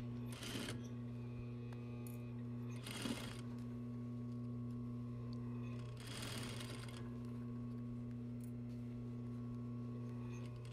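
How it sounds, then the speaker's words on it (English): A sewing machine stitches a waistline seam on a garment, its motor humming steadily at close range with three short bursts of faster, louder stitching between quieter running. "I'm going to begin sewing around the waistline seam"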